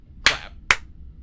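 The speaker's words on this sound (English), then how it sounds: "Let's just do a clap one more" Two sharp, close hand claps about half a second apart in a quiet room, used to sync a podcast recording, each a crisp smack with a short decay.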